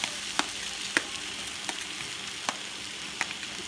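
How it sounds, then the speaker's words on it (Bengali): Potatoes fry with spices in a pan as sizzling hisses steadily throughout, punctuated by several sharp scraping stirs of a utensil against the pan at irregular intervals. "একটু আলু মশলার সঙ্গে কষে নেব।"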